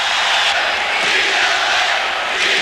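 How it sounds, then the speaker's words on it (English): A basketball arena crowd roars in a dense, steady wall of noise as fans begin chanting "Beat LA," loud and continuous throughout with no clear individual voices. "Crowd is starting to chant beat LA."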